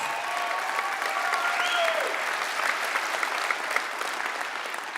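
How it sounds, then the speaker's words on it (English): Union members at a UAW local kick-off rally applaud themselves, dense sustained clapping from a large crowd with a brief whistle or cheer rising through it, loud and continuous. "Give yourself a round of applause."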